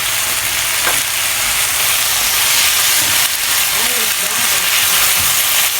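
Tofu frying in a pan with sauce for tofu pad kra pao, a loud, continuous sizzle and hiss with occasional stirring scrapes, steady from start to finish without speech.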